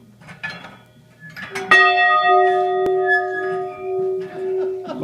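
An old school bell at a pioneer museum in Long Lake, Minnesota, rings out with one loud metallic strike and a long, ringing tone that slowly fades, with people talking quietly around it.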